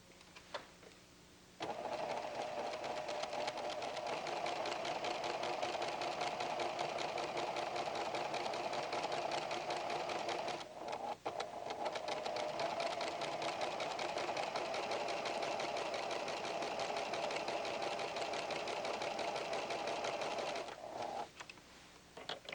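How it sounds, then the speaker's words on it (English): A PFAFF creative 7550 sewing machine sews a row of pin tucks, a loud steady whirring hum that starts after a moment, continues nearly uninterrupted with a brief pause midway, and cuts off just before the end. "Let's sew another row."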